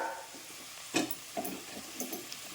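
Small onions dropped into hot oil in a home kitchen while cooking garlic kuzhambu, a faint soft sizzle with a few quiet stirring scrapes and pops, close by and low in level, no talking.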